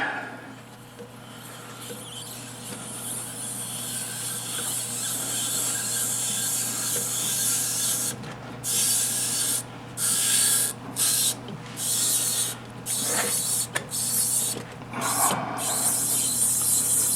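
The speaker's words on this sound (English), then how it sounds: "now I can use a tap handle to finish it so I get a better feel and don't overkill with the machine" A hand tap with a tap handle cuts threads into a Delrin plastic handle, giving a steady rasping scrape that turns into a series of rhythmic, close grinding strokes with brief pauses between turns.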